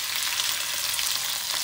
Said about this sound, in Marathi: आता याला थोडंसं तडतड होऊ द्या